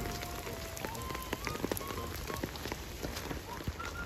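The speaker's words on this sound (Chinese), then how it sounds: "直到千军万马大雨杀到嚟啊" Heavy rain pours down during a riverside camping trip at Nam Sang Wai, a dense, steady patter on surfaces with scattered louder drops throughout.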